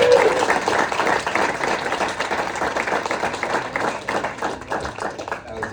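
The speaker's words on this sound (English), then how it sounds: "I think one more round of applause" Dense, lively applause from a sizable audience, sustained and close throughout, gradually easing slightly toward the end.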